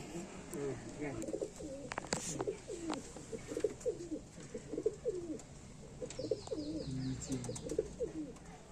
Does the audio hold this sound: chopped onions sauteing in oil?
no